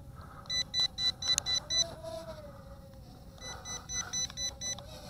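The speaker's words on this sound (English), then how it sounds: "It beeps like it wants to flip, but it does not flip." A small building-block toy drone in flight emits a rapid series of short electronic beeps, one run early and another later, over a steady whining motor hum.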